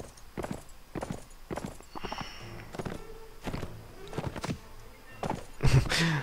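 A horse's hooves clip-clopping in a rhythmic run across the ground in the Mount & Blade game, moderately near with thuds and a louder landing near the end.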